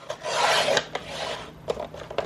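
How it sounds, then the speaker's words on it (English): A paper trimmer slices through recycled box cardboard, making close, rasping scrape strokes: one long drawn-out pass followed by a few shorter gritty bursts, with no voices. "So I'm just using my trimmer here to make everything a little bit easier."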